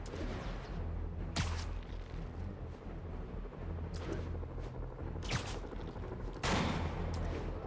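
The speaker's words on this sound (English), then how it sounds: "They're all trying to take pot shots at me." Gunmen fire at Spider-Man in Marvel's Spider-Man Remastered: a steady rattle of gunfire runs under a rumbling backdrop, punctuated by several sharp, loud bursts spread through the scene.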